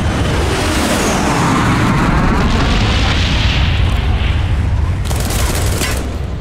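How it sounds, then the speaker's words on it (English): A heavy bomb strike in Call of Duty Black Ops, a deep rolling explosion with roaring debris and rumble sustained over several seconds, loud and close, followed by a sharp burst near the end. "bomb strike on the way."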